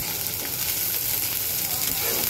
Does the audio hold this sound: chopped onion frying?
yes